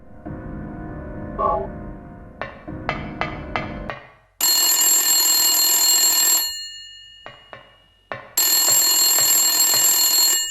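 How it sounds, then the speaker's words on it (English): A telephone rings in Silent Hill on PlayStation, loud bright electronic ring bursts in two long pulses following a few hard footstep-like knocks and a brief electronic note. "when we try to leave, we'll hear the phone ring"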